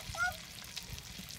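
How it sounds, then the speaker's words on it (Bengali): Corn fritters fry in hot oil in a wok on an earthen village kitchen stove, a faint, steady sizzling hiss with a brief tonal squeak near the start. "এখন আমরা বড়া ভাজা শুরু করবো। তেল কড়াইয়ের মধ্যে গরম হয়ে গেছে।"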